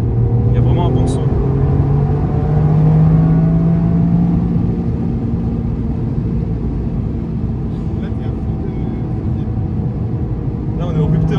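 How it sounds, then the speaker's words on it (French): Toyota GR Yaris engine held loud and steady at the rev limiter from inside the cabin, a constant high drone with a brief rise, while a person talks over it. "Là, on est au rupteur, les amis."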